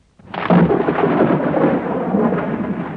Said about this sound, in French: Un jour, une énorme tempête se leva.